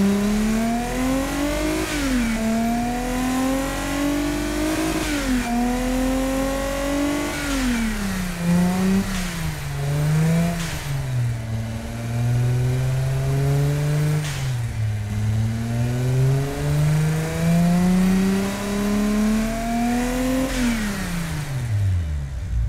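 Replica SAAB/GM 2.8L turbo V6 in the Automation car-building game revving repeatedly, loud and continuous, pitch climbing and falling across several rev sweeps before dropping back at the end, with no talking.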